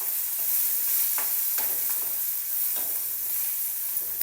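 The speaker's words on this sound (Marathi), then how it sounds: "मिरचीला छान भाजायचं।" Green chilies fry in a pan with salt, red chili powder and coriander, making a steady soft sizzle with several brief scrapes of stirring close by, without speech.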